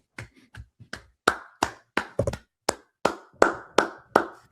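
Loud, close hand claps, about a dozen in an uneven, irregular rhythm that quickens in the middle, with no talking over them.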